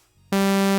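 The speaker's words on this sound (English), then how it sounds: "to make the super saws you need a saw wave" Default saw wave oscillator in the Vital synth, a buzzy, bright sustained tone that switches on abruptly after a brief quiet moment and holds steady at full loudness.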